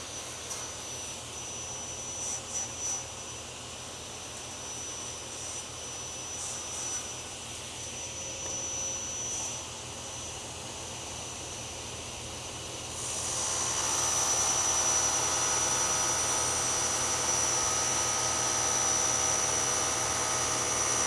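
A saw blade cuts through 1/4 inch aluminum, starting with quiet handling noises and then breaking into a loud, sustained whining screech for the last several seconds.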